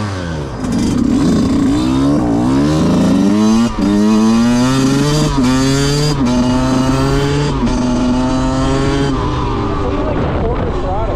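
A rebuilt Yamaha YZ125 two-stroke dirt bike engine running loud and close, repeatedly revving up and dropping back with sharp rising and falling pitch sweeps.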